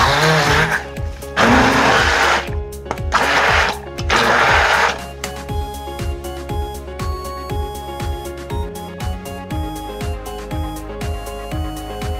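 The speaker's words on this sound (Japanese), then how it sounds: "ブレンダー持ってる方はこれで潰してもらえれば大丈夫です" A hand blender whirs loudly in a few bursts, pureeing strawberries, then a steady rhythmic mechanical churning continues with repeated pulsing clicks.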